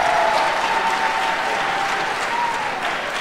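A crowd applauds steadily and loudly at a high school graduation commencement ceremony, a dense sustained clapping that fills the space and tapers only slightly toward the end.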